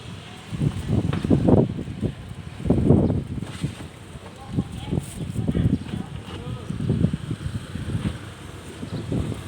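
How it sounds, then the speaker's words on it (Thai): Strong wind gusts buffet the microphone outdoors in repeated low, roaring surges that rise and fade over several seconds, with no voices. "ลมแรงมากเลยค่ะ"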